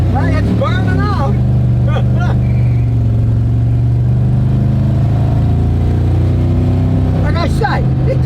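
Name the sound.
heavy hauling truck accelerating hard, burning out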